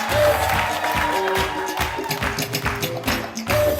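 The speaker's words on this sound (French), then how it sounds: "On va l'applaudir pendant qu'il ressort" Audience applause at a televised variety show, a dense patter of clapping running steadily, mixed with tonal background sound and faint voices.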